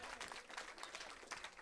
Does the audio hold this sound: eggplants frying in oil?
no